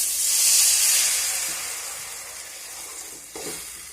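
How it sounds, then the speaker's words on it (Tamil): Tamarind water hits sautéed small onions in a hot pan and sets off a loud, steady hiss of sizzling and steam that slowly eases off, with a brief stir near the end and no voices. "இதுல நம்ம கரைச்சி வச்ச புளிய ஊத்திக்கலாம்"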